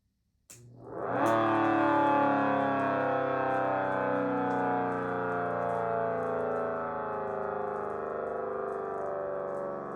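A harsh electronic siren growl tone from an ACA Banshee 115 siren swells up quickly and then sustains as a steady, buzzing drone with rich overtones, fairly loud and unbroken.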